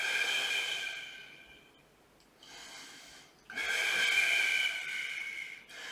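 Steady breathing during a Pilates plank held through three breaths, with two long broad airy exhalations separated by a quieter pause, close and fairly soft.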